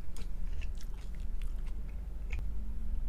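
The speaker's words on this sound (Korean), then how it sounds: "그러니까 쩝쩝 소리가 나지" Close, wet chewing and lip-smacking of someone eating a meal while breathing through the mouth, with soft crunchy bites scattered over a few seconds and no talking.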